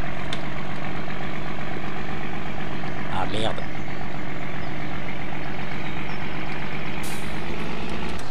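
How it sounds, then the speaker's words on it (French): A tractor reverses in a farming video game, a loud continuous engine drone with a low hum throughout, while someone speaks briefly over it. "je recule avec le tracteur"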